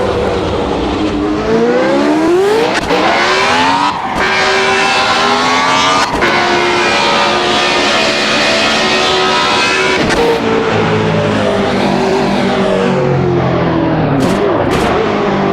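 Car engine revving hard with the clutch slipping, its pitch climbing and sagging in long sweeps. Loud and close, held for the full stretch, broken by a few brief dips between pulls and no talk over it.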